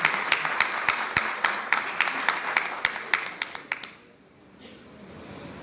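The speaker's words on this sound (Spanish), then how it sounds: "Le damos un aplauso y lo invitamos a sentarse en el libro" Audience clapping at a metropolitan congress of school cooperative associations in Buenos Aires: a sparse, rhythmic run of distinct claps that fades out after about four seconds, leaving quiet room tone.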